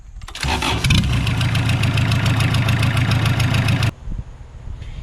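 A junkyard Kubota diesel roller compactor with no muffler cranks and catches, then runs with a loud, harsh, rapid clatter close by. After about three and a half seconds it cuts off abruptly, leaving low background rumble and no talk.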